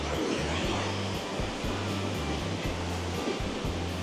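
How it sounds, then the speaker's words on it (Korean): Steady roaring rush of water through a gorge in the Slovenian Alps fills the scene, a dense continuous wash of noise with a low rhythmic hum underneath. "뭔가 물소리 듣고 있으니까 엄청 시끄러운데"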